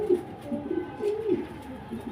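Low, throaty coos of Andalusian pigeons at a pigeon farm repeat softly several times in a row, close by, with a faint background hum.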